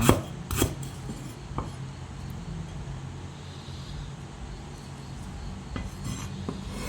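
A knife thinly slicing lemongrass for a Thai canned-fish salad: a few sharp chopping knocks close up at the start, then quieter scraping cuts and scattered taps over a steady background hiss.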